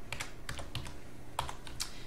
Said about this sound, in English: Okay, so I'm just entering data.